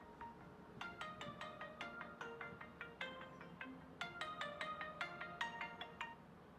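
A phone ringtone for an incoming call plays in quick repeated melodic bursts, fairly faint, over a low background hum.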